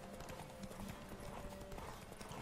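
Horse hooves clip-clop in a steady, even trot in the video game The Witcher 3: Wild Hunt, quiet and continuous throughout with no talking.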